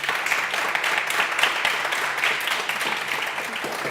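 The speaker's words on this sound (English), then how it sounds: "Please give them a big round of applause." Audience at a European Climate Pact event clapping continuously, a dense and fairly loud patter of many hands that stays even throughout without letting up.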